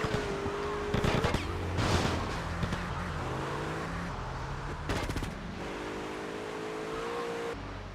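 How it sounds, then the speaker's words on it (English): Bursts of rapid gunfire and explosion-like blasts from Grand Theft Auto: Liberty City, loud against steady engine hum and revving with shifting pitch. "the only thing I can do is just shoot them and explode them,"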